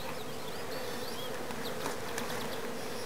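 Honey bees buzz steadily and densely while nucs are installed into hives, a continuous close hum of many insects with no talking, individual bees flitting past now and then.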